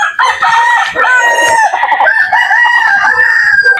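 Native chickens on a farm, with loud roosters crowing and hens clucking close by in a steady, overlapping chorus and no one talking.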